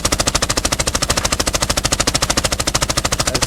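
A suppressed gun in Arena Breakout Infinite fires a fast, evenly spaced automatic burst of about thirty muffled shots, loud and continuous with no pauses.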